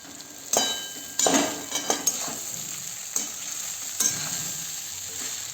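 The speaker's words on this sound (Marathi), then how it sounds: "आणि आता हे 1-2 मिनिट परतायचं आहे, 2 ते 3 मिनिट." Poha (flattened rice) sautéed in a pan: a steady close sizzle with repeated scraping and clinking of a spatula stirring against the metal, irregular knocks scattered throughout.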